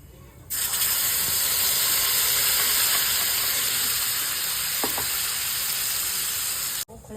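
Ground masala paste hits hot oil in a pan already tempered with turmeric and spice, giving a loud, steady sizzle that starts abruptly and runs unbroken, with a couple of faint clinks partway through.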